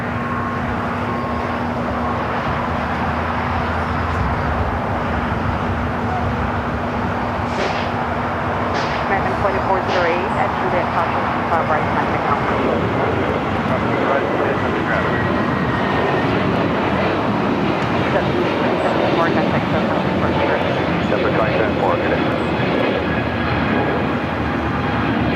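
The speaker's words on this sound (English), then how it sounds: "747-400, so it did have the option of 25 right. All right, so the Queen lining up should be the next takeoff here on the south side." A Boeing 747-400 roars steadily as it takes off from LAX, a loud, continuous broadband jet rumble heard from the airport side with voices talking over it.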